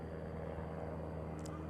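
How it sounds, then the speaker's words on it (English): An airplane flies overhead above a high school baseball game, a steady broadband roar with a low hum, constant and moderately loud throughout. "that's an airplane flying overhead."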